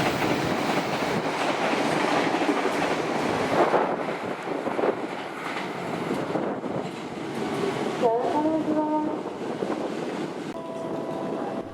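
The KA Madiun Jaya passenger train rumbles past with rolling clatter and wind buffeting, its horn sounding in a couple of short blasts near the end; a voice speaks over the noise.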